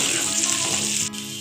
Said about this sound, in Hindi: प्याज का कलर चेंज होने तक इसको मैं फ्राई कर लूँगी